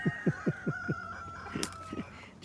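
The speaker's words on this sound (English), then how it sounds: "Chickens are great. I love these guys." Chickens cluck in a quick series of short, close clucks, with a drawn-out crowing call running underneath.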